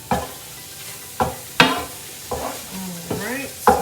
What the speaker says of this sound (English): So now that we've got our mushrooms going, let's go ahead and add our garlic.